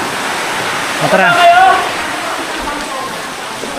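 Strong waves break on the shore at Dingalan, a broad continuous wash of surf noise with a swell of louder rushing in the middle, while a voice speaks briefly over it.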